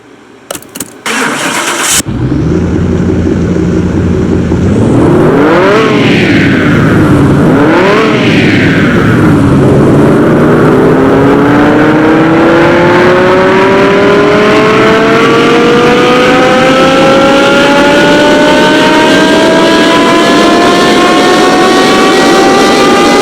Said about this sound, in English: Now let's start the dyno test.